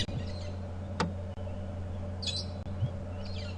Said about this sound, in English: that is the brown-headed parrot that's responsible for all the noise we're hearing